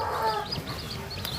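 Mother hen clucking beside her newly hatched chicks on a farm, a steady run of soft, close clucks and faint peeps carrying over a low background hum, with no talk.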